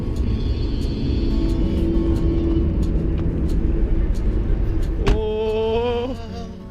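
A car travels on a dark road at night in New South Wales, Australia, its engine and tyre rumble steady and close throughout, with a rising whine and brief mechanical hum near the end.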